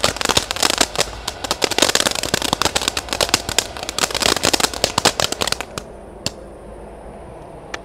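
A 5-metre fan of firework fountains goes off with dense, loud crackling and popping bursts that end abruptly, leaving a faint hiss and a last isolated pop.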